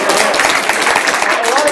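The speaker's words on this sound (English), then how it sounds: "Clap." Conference audience at ICCC15 breaking into applause, a dense burst of many hands clapping that is close and loud, with talk mixed in underneath.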